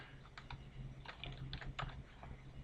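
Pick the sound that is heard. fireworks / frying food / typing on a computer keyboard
typing on a computer keyboard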